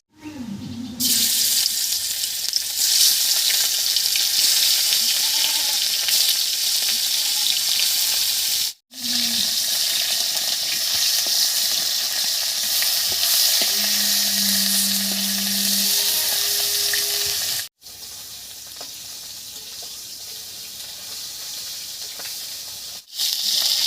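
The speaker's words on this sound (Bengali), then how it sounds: "তেল গরম হয়ে গেছে এবারে মাছগুলো ভেজে নিচ্ছি" Khoira fish fry in hot oil with a loud, continuous sizzle, cut by brief silences at two points and joined by a short low tone partway through.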